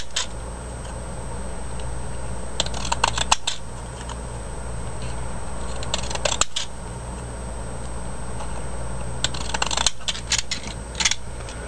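Fiskars paper edger cutting a positive pattern along the edges of a small paper square, heard as clusters of crisp snipping crunches in several bursts over a steady background hum, with no talk.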